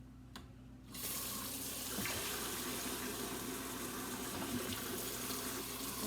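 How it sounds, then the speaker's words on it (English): A kitchen tap is turned on after a second of quiet room tone, and water pours steadily into a sink with a close, continuous hiss and splash. No voices are heard. "I've already got water running here, but I'm going to run me a little more."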